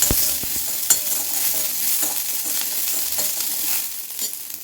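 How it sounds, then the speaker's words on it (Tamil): Small onions and tomatoes sizzle steadily in a hot pan as they are sautéed for an ivy gourd masala, with a few sharp spoon clinks against the pan and no talking. "இப்போ வந்து நம்ம இந்த சின்ன வெங்காயத்தையும் இந்த தக்காளியும் சேர்த்து நல்லா வதக்கிக்குவோம்"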